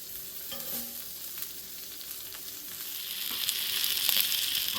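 Burger slider patties sear on a hot griddle, giving a steady close sizzle that swells louder toward the end, with a few light scraping touches.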